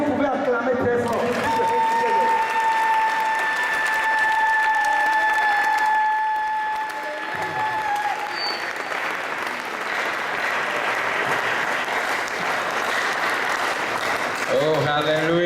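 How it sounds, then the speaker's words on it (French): A church seminary audience breaks into long, loud applause and cheering that fills the room steadily, with a few faint tones sounding over the crowd near the start. "Est-ce que vous pouvez acclamer très fort?"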